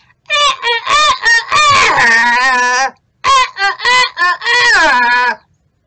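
A voice imitates a rooster crowing: two long, strained cock-a-doodle-doo calls with a brief pause between them, loud and close.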